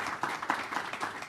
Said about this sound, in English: Would you please join me in giving a round of applause to Congressman Scott and Wittman?